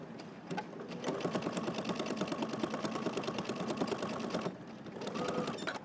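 A sewing machine runs a continuous basting stitch along a jacket seam, a rapid, even mechanical rattle that starts, runs for several seconds, pauses briefly, then resumes, close and clear.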